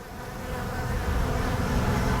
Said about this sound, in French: J'ai juste été distrait par mon dégoût des abeilles. Il y en a partout